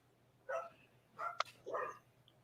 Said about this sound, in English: So many freaking dogs all over the place.